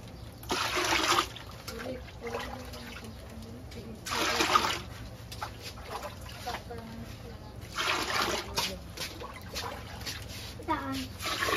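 Water is poured over anchovies in a container while making bagoong, with repeated splashing and sloshing bursts, close by, under casual talk between a woman and others.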